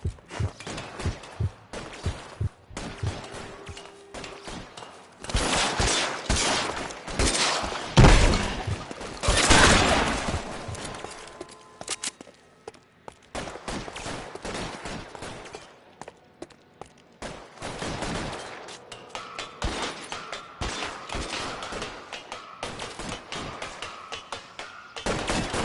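Rapid automatic gunfire in LA Noire crackles in dense bursts, peaking loud in the middle and thinning into scattered shots and quieter stretches, with little talk.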